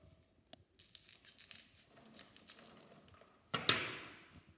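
Straw or rush ends being trimmed off a handmade Donegal Brigid's cross: soft rustling and crinkling, then a sharp, louder snipping tear near the end, close up with no talk.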